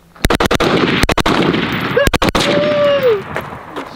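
Handgun shots ring out in quick bursts of sharp, loud, close cracks, several rapid pops in clusters with brief pauses between them.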